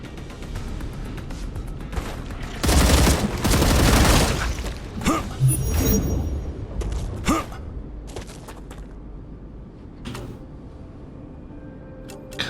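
Gunfire in the video game StarRupture, a loud sustained burst of shots followed by scattered single reports and mechanical clanks that fade toward the end.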